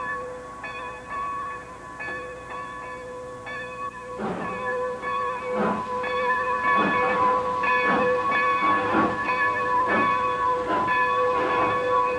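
A steam locomotive starts to move after its throttle is opened, its steady hiss giving way to rhythmic exhaust chuffs that grow louder and more regular as it gets underway.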